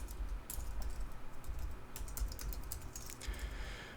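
Rapid, irregular keystrokes on a computer keyboard while coding HTML for a WordPress site. The clicks are soft and fairly close, running continuously for several seconds with no voices.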